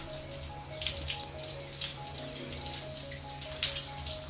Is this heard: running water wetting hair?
yes